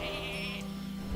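A sheep bleat from the Polymorph spell in the card game Hearthstone, a single short wavering bleat heard alone over a steady game-music background.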